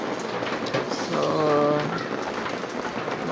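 Rain falls steadily outside a house, a continuous broadband hiss through the whole stretch, with a brief tonal sound rising over it midway.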